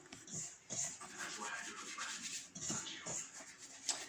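Butter rubbed into flour by hand for an apple crumble topping, soft close-up dry rustling and rubbing in repeated short strokes with brief pauses.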